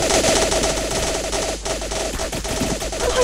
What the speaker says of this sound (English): Oh, I keep hearing this gunshot!